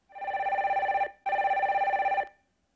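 A telephone rings in two long, steady electronic trills with a brief pause between them as a call to a radio phone-in show is put through, loud and close with no talking.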